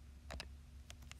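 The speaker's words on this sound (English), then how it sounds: "So now we type these in our calculator." Calculator keys tapped in a quick little run of about five sharp plastic clicks, close and fairly quiet, with no voice over them.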